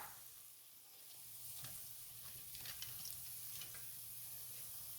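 Homemade corn dogs fry in hot oil with a steady, even sizzle and faint crackles and pops, quiet and continuous, with no voices.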